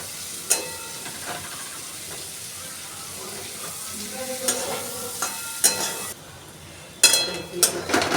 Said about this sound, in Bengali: গাজর আর ক্যাপসিকাম খানিকটা ভাজা হয়ে এসেছে। এরকম সময় দিয়ে দিলাম পেঁয়াজ কাটা।